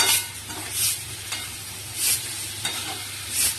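Vegetables and soybean chunks sauté in oil, a constant sizzle broken by periodic scraping strokes of a spatula stirring the pan, close and fairly loud with no talking.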